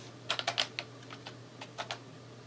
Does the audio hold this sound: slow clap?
no